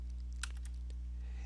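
A few light, scattered key clicks on a computer keyboard while code is typed, quiet taps over a steady electrical hum.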